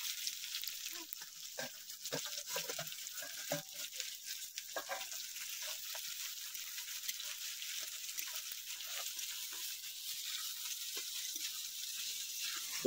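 Onions frying in a pot over a wood-fired clay stove for chicken kasa, giving a steady, even sizzle that holds at moderate loudness with faint scattered clinks and no talking.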